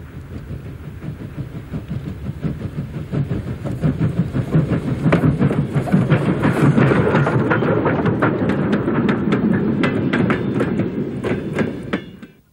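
A steam locomotive runs on rails, its steady rumble rising to a loud, sustained roar with rhythmic clickety-clack of wheels over rail joints, continuing until it cuts off abruptly near the end.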